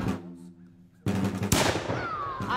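Black-powder muskets fire at an American Revolutionary War reenactment, with sharp cracks and rolling booms that echo across open ground, heard from a moderate distance.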